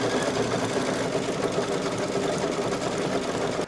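A single-needle embroidery machine stitches a rocket tip fill in red thread, a fast, even mechanical whirring and rattle that continues steadily and loudly throughout.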